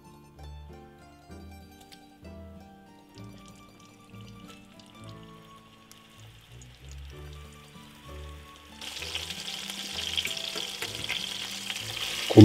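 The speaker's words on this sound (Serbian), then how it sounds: "Komade mesa propržite sa svih strana da dobiju zlatnu koricu." Floured veal shank pieces sizzle in hot olive oil in a frying pan, quiet at first under soft tonal background sounds, then a louder crackling fry swells for the last few seconds.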